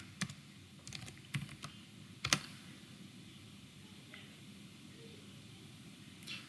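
Code being typed on a computer keyboard: a handful of sharp, quiet keystroke clicks in short scattered bursts near the start, then mostly low room hiss with an occasional faint tap.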